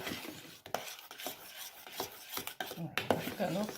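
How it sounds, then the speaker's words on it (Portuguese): Unsalted butter being beaten into mashed potato purée, a close, quiet sequence of soft rubbing, scraping strokes with utensil-on-pot clinks at an uneven rhythm. "Bater bem, misturar bem essa manteiga, incorporar ela ao purê."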